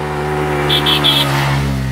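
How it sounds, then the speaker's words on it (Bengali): A motorcycle passes close by on a rural road near a waterfall in Khagrachari, a steady loud engine drone with a brief rise and fall as it goes past, and a horn-like triple beep midway. "তো এখান থেকে কিছু মোটর সাইকেল আছে, এই যে যাচ্ছে"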